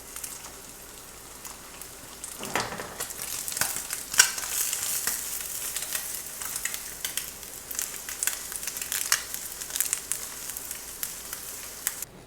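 Egg topped with cheese frying in a pan, a steady close sizzle with crackling pops that rise and fall throughout, no voices.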